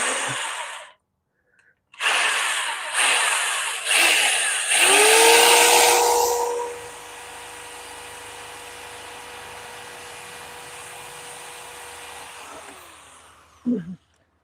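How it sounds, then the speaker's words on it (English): A power drill bores through a jar lid, with a short burst, then harsh grinding as the bit bites. It settles into a steady motor whine for several seconds before stopping with a final clack. "You really don't want to be pressing down on the drill whenever you're drilling anything."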